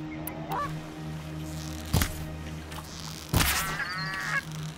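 Goose-like birds honk in Horizon Zero Dawn, two loud sharp calls standing out over a steady low in-game ambient drone, with a fainter honk near the end; no talking.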